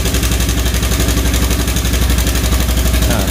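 A running car engine with a faulty timing belt tensioner makes a rapid, rhythmic ticking rattle repeating steadily, loud and close, no voices.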